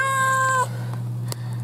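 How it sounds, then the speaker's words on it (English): A cat caught in a live trap lets out one loud, drawn-out meow close by, followed by quiet with a steady low hum and a faint click. "I was told I had a cat in this"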